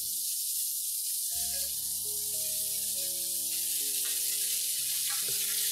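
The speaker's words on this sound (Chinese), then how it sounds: "煎一煎佢先， 煎香佢一边先" Sliced potatoes and pork belly fry over medium-high heat in a pan, giving a steady, loud sizzle with crackling spits and scraping stirs, nearby and without speech.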